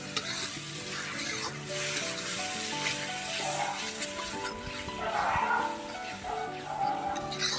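Mutton masala with turmeric sizzles steadily in a pan while it is stirred, a continuous close frying hiss with occasional scraping.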